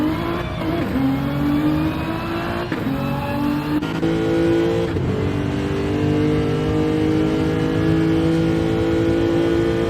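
A race car engine revs and accelerates through gear changes in a racing game at Monza, loud and continuous with rising and dropping pitch throughout.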